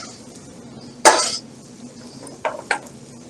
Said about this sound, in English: We're going to ladle our shrimp stock, and we're going to put it in with that tomato sauce.